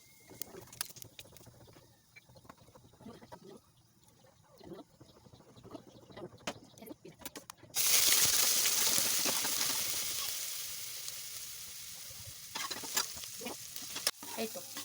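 Vegetables and spices frying in a pan, with a steady loud sizzle that surges partway through as more go in, plus stirring scrapes and clinks throughout.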